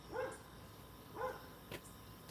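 A pet dog barks twice in the backyard, two separate mid-range woofs about a second apart, followed by a short faint yip, at moderate distance with no talking.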